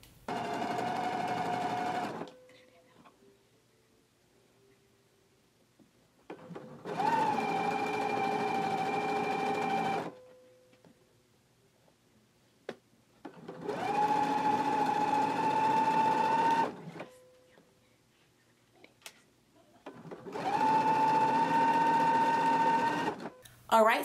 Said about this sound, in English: we can go ahead to the machine and we're going to stitch on the outside